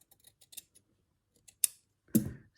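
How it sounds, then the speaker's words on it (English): Scissors trimming quilt fabric, giving a few faint soft snips and then one sharper, louder cut near the end, set against a quiet room. "all I've really got to do is just trim this a little"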